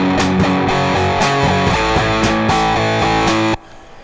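Music run through the Airwindows Distortion plugin, a transfer-function distortion effect switched on, gives a loud, saturated, buzzy rhythmic pattern that cuts off abruptly near the end, leaving a faint hiss.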